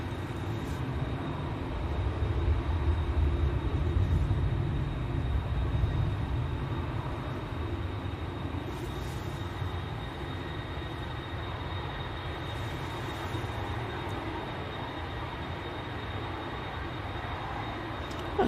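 An easyJet airliner from Liverpool lands at windy Manchester Airport, its engine roar swelling in the distance and then settling into a steady rumble mixed with gusting wind, with no speech.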